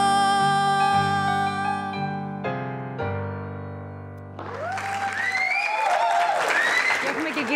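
Applause from a studio audience breaks out after a Greek song performance on a music television show, a dense clapping wash with cheers rising as the final sung and instrumental notes fade.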